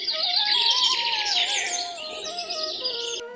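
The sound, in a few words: birds chirping in a forest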